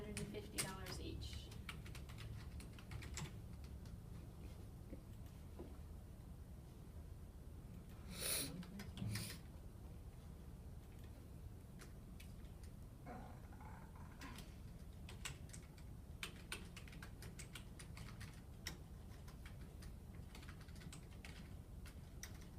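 Quiet, irregular clicks of typing on a computer keyboard in an office during faculty registration work. Faint scattered keystrokes run under people talking nearby.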